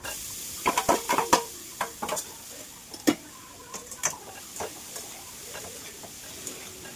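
A spoon scrapes and taps against a pan while roasted ginger and garlic are mixed together, producing scattered sharp clinks and scrapes at an irregular pace, fairly close and moderately quiet, over a faint background hiss.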